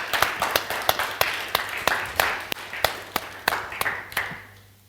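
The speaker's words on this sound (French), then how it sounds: "Est-ce qu'on peut applaudir le ressuscité" Church congregation clapping for an actor who played the risen Christ, a steady run of sharp, fairly regular claps from a small crowd that thins and fades toward the end.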